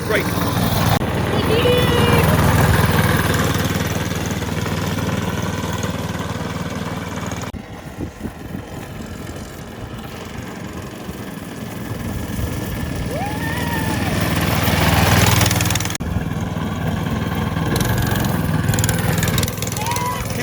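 A rebuilt go-kart engine runs with a steady buzzing drone that swells and fades as the kart passes, heard outdoors at moderate distance with people talking over it.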